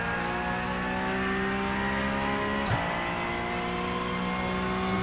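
Porsche Cup race car from iRacing at the Nürburgring GP circuit, engine held at full throttle with a steady, loud droning whine and a brief gear-change blip partway through.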